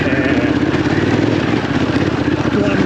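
Harley-Davidson Pan America motorcycle engine running steadily and loud throughout on a sloppy, wet New Year's Day ride, with a rider's voice talking over the continuous rumble.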